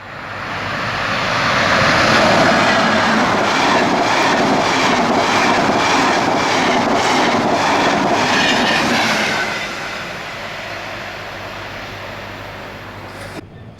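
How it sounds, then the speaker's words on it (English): Class 87 electric locomotive 87002 hauls a train past a level crossing just outside Doncaster, a loud sustained roar with rhythmic clatter of wheels over rail joints that fades slightly toward the end. "at Dock Hill's level crossing just outside Doncaster, 87002 is seen with 1Z87 from Edinburgh to King's Cross"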